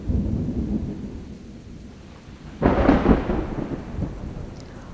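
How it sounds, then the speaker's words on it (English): Thunder rumbles and rain falls over a watershed model, with a steady low wash of rain and a loud, broad thunder crash arriving partway through and then fading. "Let's check out our watershed model as it rains and see what happens."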